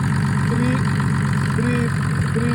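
A Mercedes OM603 diesel engine with a mechanical injection pump runs at a steady idle, a close, loud, even clatter with no pauses.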